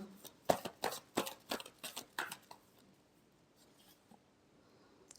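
Tarot cards being shuffled in a quick run of about eight crisp riffling bursts, close and fairly loud, then fading to quiet room tone with a few faint rustles.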